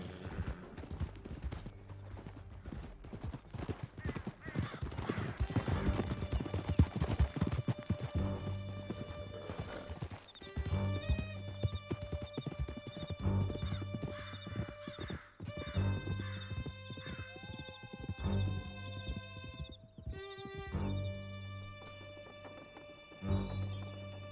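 Horse hooves gallop in a steady, driving clip-clop during a Red Dead Redemption canyon ride, loud and close with a whinny or two, all under a full orchestral music score.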